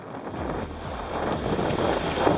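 Trade winds buffeting a racing sailboat at sea during the Vendée Globe, a steady rushing wind roar with water wash against the hull, loud and continuous with no voices.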